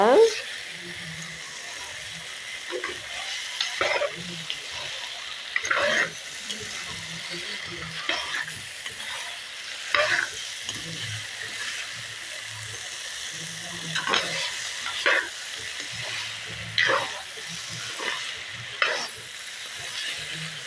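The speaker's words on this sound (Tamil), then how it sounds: "மசாலாலாம் பச்சை வாசனை போகிற அளவுக்கு வதங்கணுங்க." Masala sautéing in a pan for Tamil-style brinjal pachadi, with a soft continuous sizzle and repeated scraping and tapping of a ladle stirring the mixture, close by, and a voice talking intermittently over it.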